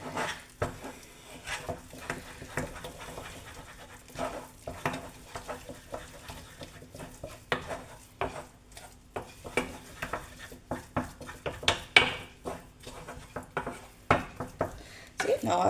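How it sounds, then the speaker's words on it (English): Spoon stirring thick choux pastry dough of flour and water in a pot, with repeated soft scraping and knocking strokes against the pan, close and fairly quiet. "So once all my flour is in, I can just stir it until it forms a ball and pulls away from the sides."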